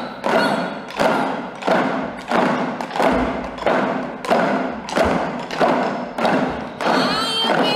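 Eisa dance drums are struck hard by a group in a workshop, booming in a steady beat about once per second, eight or so loud blows with ringing decay between them.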